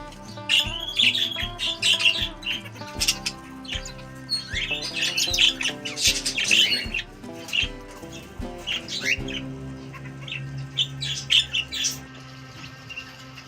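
Loud, dense squawking and shrill calls from many macaws and yellow-crested cockatoos at a parrot breeding farm, overlapping continuously over a low steady background.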